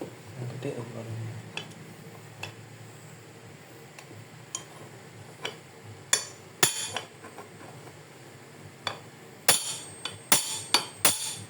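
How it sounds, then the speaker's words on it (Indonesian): A big hammer strikes metal during disassembly of an old Yamaha Vixion motorcycle, giving a series of sharp, ringing clanks that come sparse at first and then cluster toward the end, with people talking in the background. "Yang gede tuh palunya."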